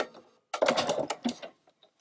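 Sewing machine stitching the open end of a fabric tote bag, a silent pause followed by a loud, steady run of rapid stitching lasting under a second, then slowing to a few faint stops.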